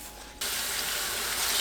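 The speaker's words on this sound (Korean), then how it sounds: "손질한 아욱은 흐르는 물로 씻어내세요" Tap water switches on partway through and then runs in a steady, full rush, close by, while mallow leaves are rinsed under it.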